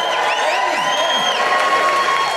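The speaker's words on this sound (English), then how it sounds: "let's give it a round of applause for Glasgow" Comedy club audience at a Scottish comedian of the year final cheering and applauding for Glasgow, a steady dense wash of crowd noise with whoops and a voice rising through it across the whole stretch.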